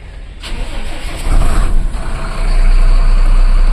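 A large truck engine cranks and starts, then revs up into a loud, deep sustained rumble as the vehicle pulls out onto the road.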